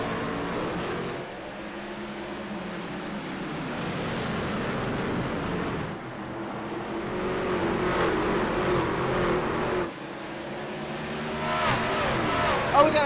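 Race truck engines roar around Martinsville Speedway in a racing simulation, a continuous droning pack of motors with swells as the trucks pass, steady and fairly loud under a commentator's talk.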